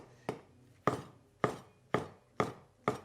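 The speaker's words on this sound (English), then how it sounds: "all we have to do is slice up your shiitake mushrooms" Six crisp knife strokes slicing shiitake mushrooms on a board, evenly spaced about half a second apart, close and clear with no talking.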